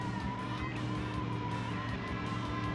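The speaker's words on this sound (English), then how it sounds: "Engine sound. It's got the B8 motor engine." A V8-style car engine in the Nintendo 64 racing game Cruis'n World holds a steady, buzzing drone at low volume, with a faint hum running beneath it.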